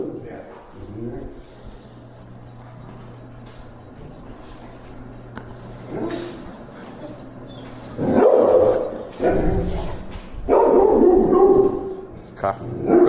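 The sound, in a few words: small scared dog barking during behavior evaluation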